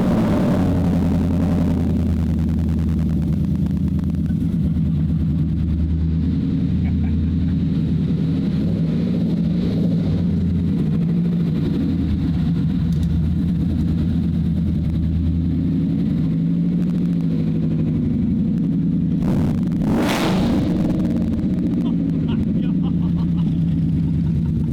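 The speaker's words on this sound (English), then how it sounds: "we really just want to hear this exhaust" A deep, steady supercharged 750 hp Ford F100 truck engine rumbles at idle through its exhaust, with a brief sharper rev near the end.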